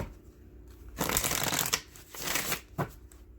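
Cards being shuffled up close: two bursts of riffling, each a quick papery flutter, the second ending with a soft tap.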